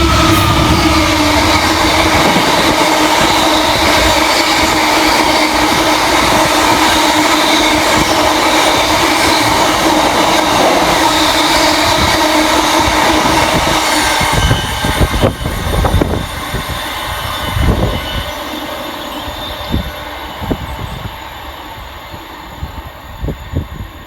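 A heavy freight train rumbles steadily past at close range through Olton railway station, metallic rolling and wheel noise continuous throughout, thinning to clanks and rattles as it moves on.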